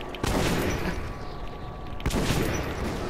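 Gunfire in the video game Metro 2033, two sharp booming shots about two seconds apart, each with a reverberant tail, loud and with no talk.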